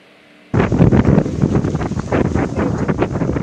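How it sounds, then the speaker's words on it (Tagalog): Loud, steady gusting strong wind roars across the microphone after a brief quiet start, buffeting continuously with rough, rumbling bursts, in Isabela, Philippines. "dahil sa magdamag na pagbayo ng malakas na hangin"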